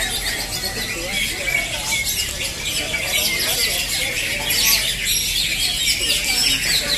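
A green leafbird (cucak hijau) sings at a crowded bird contest, its shrill, continuous chirps and squeals steady and loud over a dense din of other birds and crowd noise.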